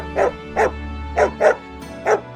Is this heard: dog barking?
yes